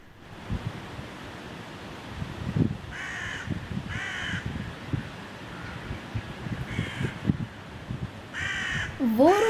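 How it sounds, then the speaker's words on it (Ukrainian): A crow caws in repeated harsh bursts, some single and some doubled, over a steady wind and surf-like background, with a low voice faintly audible. "Ворону ми зустрічаємо взимку?"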